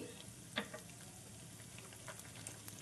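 Lentils frying in oil in a pan for pulihora mix, a soft, faint sizzle with a stirring clink near the start and scattered light crackles.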